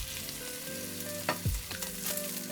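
Chicken pieces fry skin side down in a pan with a steady close sizzle and crackle, a few sharper pops and clinks breaking through near the middle.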